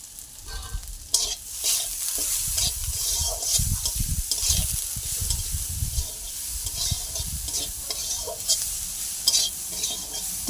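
Food is stir-fried in a pan with salt, a steady close sizzle broken by repeated scraping and stirring strokes of a spatula, with no speech.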